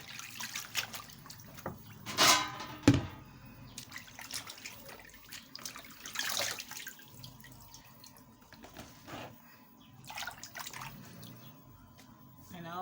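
Tap water runs into a sink while vegetable leaves for native oha soup are washed, a steady trickle with splashy bursts and faint drips, moderately close, with occasional handling noises and no talk.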